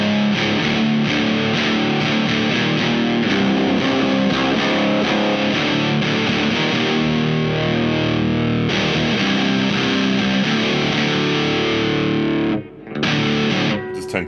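Heavily fuzzed electric guitar through a Boss DS-1W distortion pedal, chugging continuously at steady loudness, thick and saturated, with a brief dropout near the end before the playing resumes.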